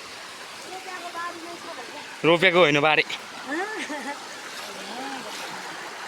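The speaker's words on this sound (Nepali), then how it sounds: "बारी एकदम ठुलो छहरा खसिरहेको छ" Steady broadband rush of a large waterfall and fast stream, continuous and fairly loud. Someone speaks briefly over it and there are a few faint calls.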